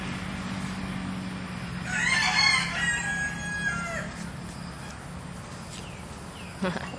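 A rooster or chicken nearby calls out in a loud burst, the clucking and crowing rising over a steady low household hum, then fading to quieter background noise with a brief knock near the end.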